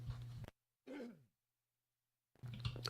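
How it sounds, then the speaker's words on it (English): A man clears his throat in a couple of short, rough bursts separated by silence, close to the mic, with a brief bit of speech at the start and end. "having a problem clearing my throat here"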